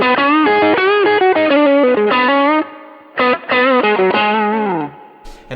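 An electric guitar runs through a Kemper Drive overdrive pedal, playing loud, distorted melodic phrases with bends and sustained notes, a short pause midway and a brief noisy burst at the end.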